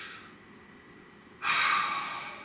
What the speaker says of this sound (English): Take a nice deep breath, my darlings.